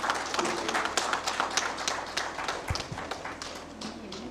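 An audience at a poetry honouring ceremony claps for the poet's parents, giving a steady patter of many hands from a moderately distant crowd that carries on throughout.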